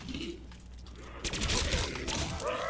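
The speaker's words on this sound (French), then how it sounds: "je lui ai tiré carrément dessus" Burst of gunfire in Black Ops 3 Zombies on the Ascension map, a dense rattle of shots starting partway through and running to the end, loud and close.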